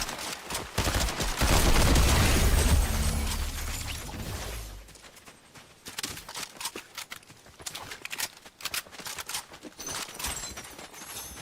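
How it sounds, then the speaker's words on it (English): Burst submachine gun fire in an online shooter match: loud, dense rapid volleys dominate the first few seconds, then sparser sharp shots and clattering impacts follow at a lower level. "Didn't know it was a burst SMG,"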